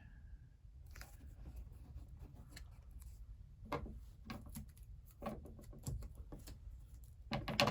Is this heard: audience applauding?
no